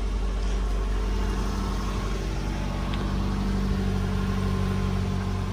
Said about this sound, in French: le moteur tourne vraiment bien